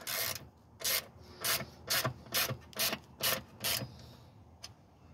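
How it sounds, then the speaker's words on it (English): Ratchet with a 1/4 inch socket working T30 Torx bolts on a 2002 Ford Windstar LX driver's seat: about eight short, quiet, rhythmic bursts of ratcheting clicks, each around a third of a second, separated by brief pauses, with no voices. "I just put it in a 1/4 inch socket on my ratchet."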